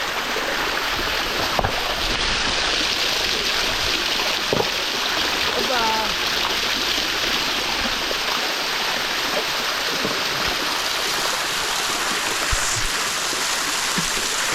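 Steady broadband rush of a waterfall and stream flowing at Vellarada, continuous and fairly loud throughout with a faint brief bird-like chirp partway through, no talking.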